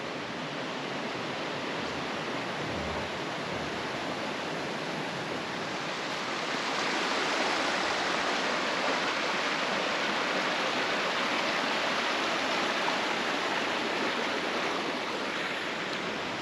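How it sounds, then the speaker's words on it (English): A river flows below a cave, giving a steady broad rushing wash of water that holds constant and grows slightly fuller midway, with no voices over it. "down here we've got the river"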